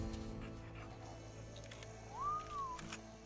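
A dog whimpers in a video game teaser, giving one faint, rising and falling whine over a low background hum, with no talking.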